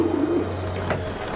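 A pigeon in Assassin's Creed II on PS5 gives a single soft, low coo near the start, over a steady low background hum.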